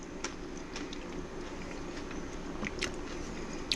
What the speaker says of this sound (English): The crunch of the cabbage, the crunch of the radish, the onion.